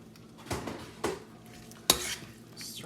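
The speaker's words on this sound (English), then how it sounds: "Stir this up." Stew meat stirred in a pot with thickening gravy: a few distinct scraping strokes of a spoon against the pot, close up, with a faint sizzle beneath and no talking.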